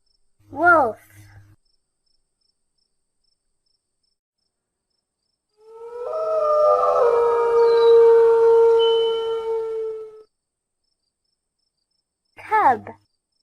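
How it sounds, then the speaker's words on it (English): A wolf gives a long, rising and wavering howl in the middle of the clip, loud and alone, between short, sharp separate calls at the start and end. "wolf"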